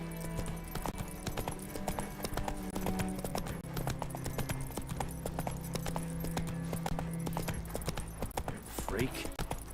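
The horse Roach trots with steady, rhythmic clip-clopping hooves in The Witcher 3, heard continuously over game music while a voice talks.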